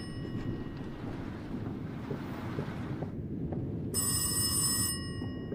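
A telephone rings inside the horror game Rise of Insanity, a bright trilling burst arriving abruptly partway through and cutting off a second later over a steady low, windy ambient rumble, with no talk.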